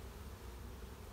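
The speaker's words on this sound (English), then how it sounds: "Okay, lots of bees." Honey bees swarming around opened hives, a faint, continuous buzzing hum with no breaks or voices over it.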